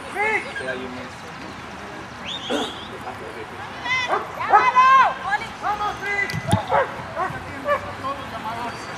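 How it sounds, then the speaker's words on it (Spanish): A medium-sized dog at a dog competition expo gives a few yips and whimpering barks amid crowd noise and an announcer's voice. "Primer competidor de esta categoría, un perro mediano"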